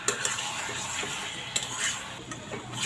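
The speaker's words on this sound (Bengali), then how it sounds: "এখন মশলার সাথে ভালোভাবে মিশিয়ে নেব সবজিগুলো" Vegetables are stirred into spices in a cooking pot with ridge gourd, a spoon scraping and clinking against the metal over a constant soft sizzle, with a few sharper taps.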